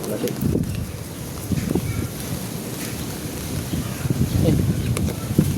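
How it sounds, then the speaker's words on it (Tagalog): Strong wind buffets the microphone in a steady low rumble with gusty swells, while people play the card game pusoy nearby and their voices and card handling sound faintly beneath it. "Lakas ng hangin."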